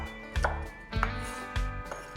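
A big butcher knife chops pecans on a wooden chopping board, with three or four firm, evenly spaced knife strikes close by and no talking.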